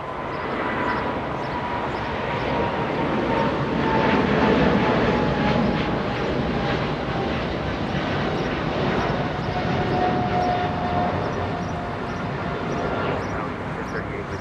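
An American Airlines Boeing 777-200 bound for London Heathrow roars on its takeoff roll at Los Angeles International Airport, a loud, steady broadband engine rumble with a faint whine, continuous throughout, while a person talks over it.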